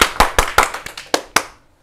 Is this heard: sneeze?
no